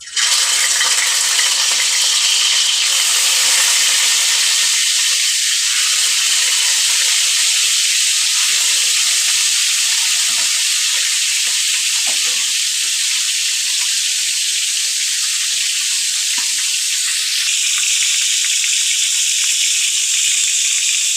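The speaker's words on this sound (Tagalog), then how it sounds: "Prito na to guys." Steady, loud sizzling of fish and sweet potato frying in hot oil, a constant bright hiss with occasional pops and small shifts, no talking.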